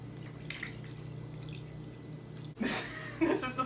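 Water poured into a papermaking trough, a brief close splash and gurgle after a quiet low hum, with a few drips near the end.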